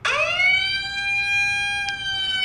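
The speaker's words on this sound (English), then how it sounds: "I prefer the siren." A siren-style alert tone from the WIN-911 Mobile app swoops upward and then holds a steady, bright electronic wail, loud and alone.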